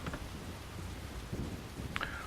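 Soft steady rain falls with low rolling thunder in the background of the horror game The Worry of Newport, fairly faint and continuous, with a brief bright tone near the end.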